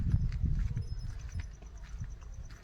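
Native bullocks hitched to a farm bullock cart clop steadily along, hooves beating in a loose, repeated rhythm at close range over low rumbling movement, with no talk.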